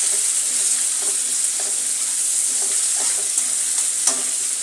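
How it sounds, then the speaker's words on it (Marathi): One large chopped onion sizzles steadily in hot oil in a pan while making wangyache bharit. A dense, continuous frying hiss carries through, with periodic soft scrapes from stirring about every half second and no talking. "कांदा चांगला परतून घेऊया।"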